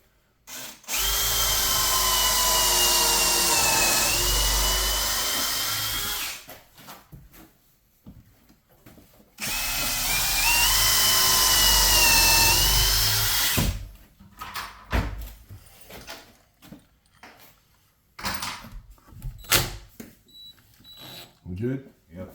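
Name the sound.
power drill pre-drilling shower framing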